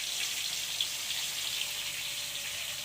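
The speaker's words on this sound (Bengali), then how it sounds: "মাছগুলো ভেজে নেব" Pieces of Katla fish frying in oil in a pan, a steady hissing sizzle that stays close and fairly loud throughout, with no voices.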